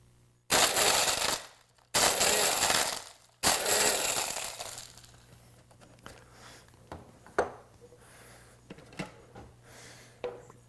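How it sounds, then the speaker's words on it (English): A blender pulses briefly through ice for a Zombie cocktail, with three loud, short grinding bursts followed by quieter clinks and rattles of ice settling. "Now we add the ice. And we're going to do what's called a flash blend."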